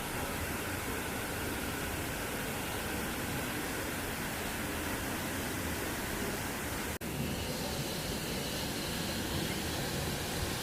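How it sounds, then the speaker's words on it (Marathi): Water pours forcefully into a small forest pool, a dense, unbroken roar of rushing water heard close up and loud, with one brief dropout partway through and no talk. "हे जे पाणी आहे ना, पाण्याचं पाणी ते असं जोरात इथे पडत असतं"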